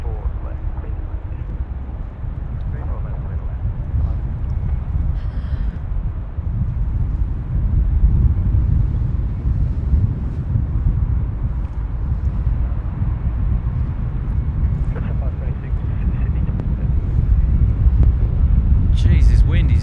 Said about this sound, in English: Jeez, this wind is killing me.